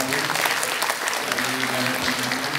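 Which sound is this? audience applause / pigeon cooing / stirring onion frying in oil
audience applause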